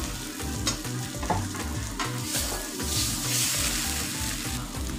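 Fried potatoes tipped into spice paste frying in a pan, Bengali village-style prawn and potato curry, giving a loud, steady, close sizzle with bubbling crackle and stirring, with no talk.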